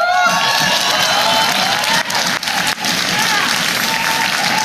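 Crowd cheering and applauding at a Clash of Clans team event, a steady roar of cheers and whoops filling the space with a few brief dips, and voices mixed into the din.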